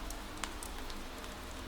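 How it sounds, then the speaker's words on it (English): Rain falling outside in a quiet night setting, a faint, even hiss with a few scattered drop taps, soft and distant with no talk. "the rain outside begins to sound farther away"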